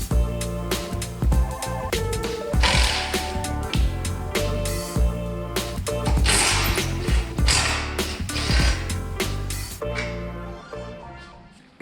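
Ratchet clicking in quick bursts while removing the bumper and intercooler from a 2014 Subaru WRX STI, with close mechanical taps and clanks between runs of clicks, fairly loud.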